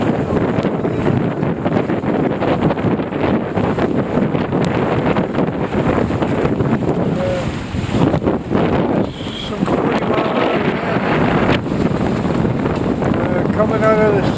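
A sailboat under full sail beats out of a harbor into a southeast wind, with steady, loud wind roar buffeting the microphone throughout and a faint wash of water beneath.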